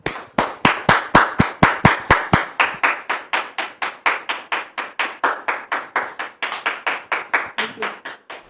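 A studio audience applauds a guest's arrival on a French-language talk show with rhythmic clapping, sharp and fast at first and then a steady near beat of unison claps. A voice is heard faintly underneath.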